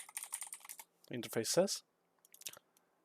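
Keys tapping on a computer keyboard while a folder name is typed for an Unreal Engine 5 horror game project, light quick clicks in short bursts around a brief stretch of talking.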